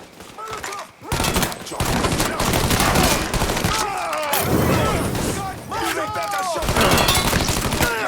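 Shotgun blasts and other gunfire in the Mafia 3 video game ring out in a dense, continuous volley, loud and close, with heavy booms and clatter filling the whole stretch and a short lull near the start.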